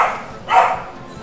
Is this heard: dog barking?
yes